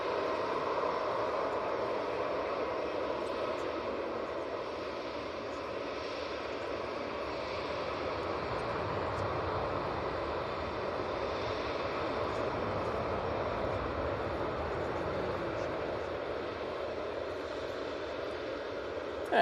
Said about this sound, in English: Very nice landing there from the Jet2